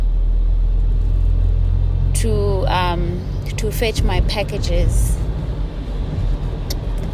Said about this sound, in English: And the traffic is crazy.